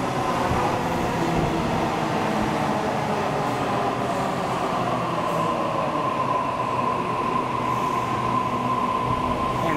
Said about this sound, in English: And now we have another Waratah arriving for a Leppington via Strathfield service.